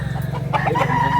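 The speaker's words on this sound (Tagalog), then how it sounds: "Ang manok." A rooster for sale at a market clucks and gives short throaty calls, close and fairly loud over a low steady background hum, lasting just over a second.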